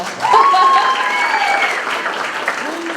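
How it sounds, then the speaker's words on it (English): Steady audience applause fills a girls' basketball banquet ceremony, a dense, fairly loud wash of clapping with a brief whistle-like cheer early on, holding for about three seconds before thinning slightly. "You can clap for Mara."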